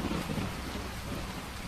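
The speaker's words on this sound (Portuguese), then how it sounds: "Como a chuva não parava" Steady rain falling in a continuous, even wash of noise, moderately loud and close, with no voices or other sounds over it.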